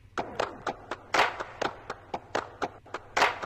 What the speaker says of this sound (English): From Pit the Kid, I use this clap loop, but I just chopped it.